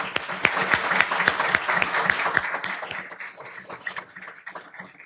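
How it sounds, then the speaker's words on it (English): Applause from the audience at a township council meeting: a burst of clapping that is strong at first, then thins out to scattered claps and fades. "Please give Donald a round of applause, please"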